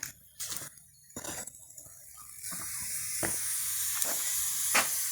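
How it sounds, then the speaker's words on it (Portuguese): A pressure cooker of beans cooking over a wood fire in the Amazon gives a steady hiss that rises and holds loud, with sharp crackles and pops from the burning wood scattered through it. "não sei se dá para escutar o barulhinho da panela de pressão"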